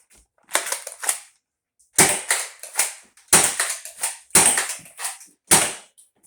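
A toy blaster styled after an MP5 fires in five quick bursts of sharp, rapid clacking shots, each burst a few snappy pops close by, separated by short silences.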